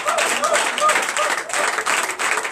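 Audience applause at a night of deliverance and prophecy church service in Benin, loud, close rhythmic clapping from the congregation with some voices mixed in, swelling in uneven waves.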